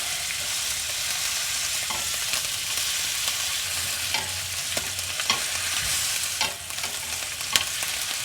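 Burger patties frying on a griddle during an overnight parking-lot camp, giving a loud, steady sizzle throughout with small crackles and pops scattered over the top.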